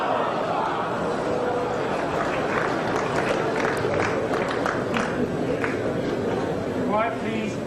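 Snooker crowd at the 1985 World Snooker Championship final between Steve Davis and Dennis Taylor, a steady murmur of excited chatter and stirring filling the hall throughout, with a voice talking over it.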